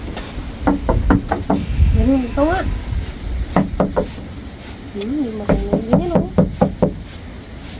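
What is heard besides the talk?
knocking on a door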